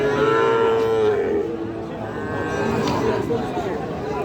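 Sahiwal cattle lowing with long, deep moos over a steady crowd murmur, people chattering nearby in a busy outdoor cattle market.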